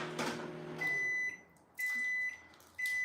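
A microwave oven hums while melting butter, then gives three steady high-pitched beeps spaced about a second apart.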